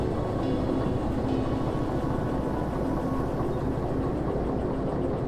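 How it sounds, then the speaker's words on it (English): Two locomotives in the Derail Valley train game roll toward the turntable, with a continuous low engine rumble and rail noise running steadily and fairly loud throughout. "we're going to take these two locomotives to the turntable"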